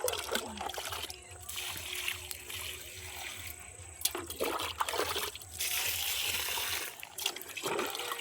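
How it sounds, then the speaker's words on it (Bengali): Water poured into cut planting pits in a home vegetable garden before setting winter vegetable seedlings, a soft splashing trickle with brief louder gushes, faint background noise. "প্রথমে মাদার মধ্যে জল দিয়ে"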